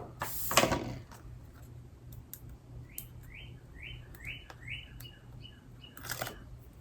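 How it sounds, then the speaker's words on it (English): A bird chirps a quick series of repeated notes in the distance, with sharp clicks and rustling nearby. "You can hear the birds."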